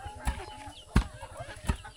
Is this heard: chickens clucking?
yes